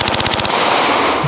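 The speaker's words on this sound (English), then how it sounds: "Doesn't take long to empty a 25 or 30 round magazine." A Thompson submachine gun fires a rapid, loud burst of evenly spaced shots lasting about half a second, followed by a ringing, reverberant echo.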